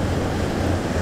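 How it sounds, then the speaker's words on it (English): Ocean surf breaking along the shore at Yarmouth, Maine, a steady broadband wash with low rumble, continuous and fairly loud with some wind noise, no voices. "I'm at peace with the waves, with the ocean, the sound, the movement."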